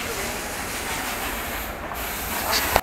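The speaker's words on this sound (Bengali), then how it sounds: "দেখছো পাশ দিয়ে ট্রেন যাচ্ছে" A train rumbles past near a station with a steady rushing roar and hiss of wheels on rails, ending in a brief sharp knock.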